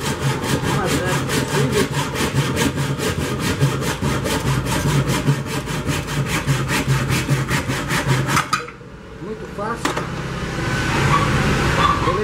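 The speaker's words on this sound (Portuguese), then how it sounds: "Vamos cortar aqui primeiramente." Hand sawing through a handmade pan handle, a steady close rasp of rapid back-and-forth strokes that runs for most of the clip before stopping, followed by faint handling noise and a rising background hum.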